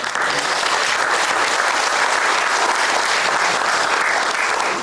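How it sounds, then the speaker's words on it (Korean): A church congregation at a Presbyterian men's prayer breakfast applauds to welcome a visiting pastor, a dense, steady wash of many hands clapping at full volume throughout with no voices rising above it. "한번 박수로 환영하도록 하겠습니다"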